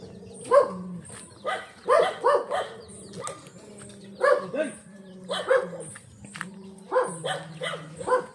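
A dog barks repeatedly in short bursts, fairly close, with irregular gaps between volleys while people talk nearby.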